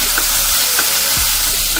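Ginger and garlic paste fries in a pan with a constant close sizzle, broken now and then by the scrape and tap of a stirring spoon. No one speaks.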